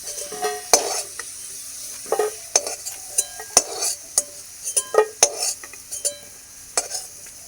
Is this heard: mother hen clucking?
no